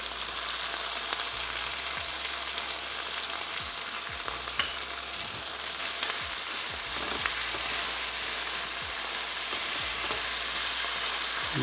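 Chicken sausages, onion and red chili paste fry in a pan with a steady, loud, close sizzle, broken by occasional light stirring clicks; no one speaks.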